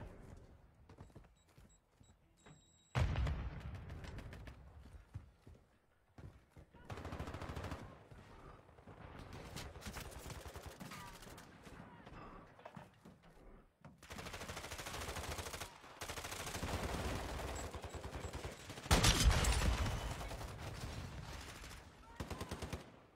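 Rapid bursts of video game gunfire, loud and repeated in clusters, with automatic-weapon rattles separated by quieter gaps and occasional louder volleys near the end.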